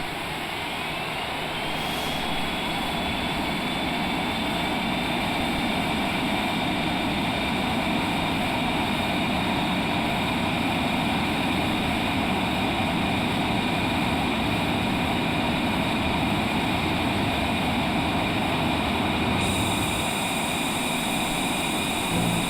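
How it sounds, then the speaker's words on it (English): Cessna Longitude business jet engines at full takeoff power: a loud, steady roar with a rising turbine whine that climbs and then holds high, heard from inside the cabin, no voices. "So here we go in the Cessna Longitude at the full power."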